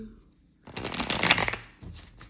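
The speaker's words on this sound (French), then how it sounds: "On va faire un autre petit brassage." Tarot cards are shuffled by hand, a close riffling flutter of about a second with softer card handling after, fairly quiet with a faint voice nearby.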